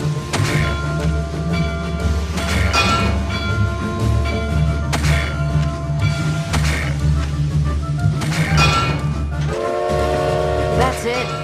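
A train in a Lemony Snicket adventure video game rolls along the tracks with loud rhythmic clatter and repeated horn-like whistle blasts over a steady rumble, with game music or effects layered in.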